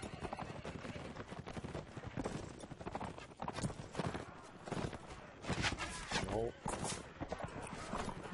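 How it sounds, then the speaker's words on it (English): Mounted steppe bandits in the Mount & Blade combat game ride past with a steady clip-clop of hooves, mixed with battle clatter and some talk, at a fairly low level. "Oh yeah, they're on horses."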